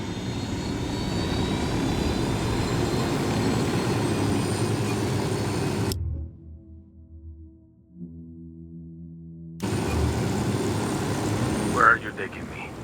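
A loud aircraft engine drones continuously while a helicopter or plane is piloted in the video game Ghost Recon Wildlands. The roar cuts out abruptly midway for a few seconds, then returns, with speech heard over it.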